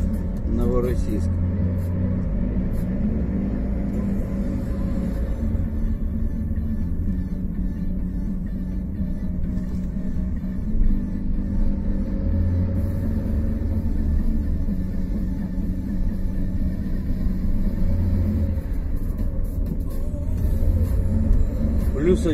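Car driving on the road from Shirokaya Balka to Novorossiysk at dawn in February, a steady low engine and road rumble inside the cabin throughout, with people talking over it.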